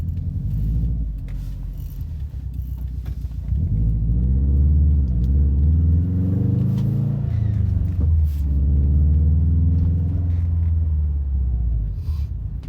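A Subaru STI engine in a mobile racing video game rumbles low and loud, rising into a revving surge midway, then holding a steady growl before easing off.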